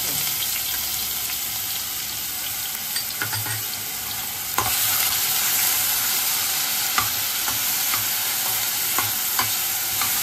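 Ground onion paste hits hot oil with bay leaf, dried red chilli and whole garam masala for Bengali mustard chicken, giving a steady broadband sizzle that jumps louder midway, with scattered scraping clicks of stirring throughout and no voices.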